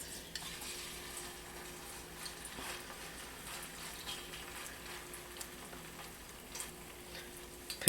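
Squash fritters fry in hot oil in a cast iron pan, a soft, steady sizzle with faint stirring and utensil clinks, heard close and low.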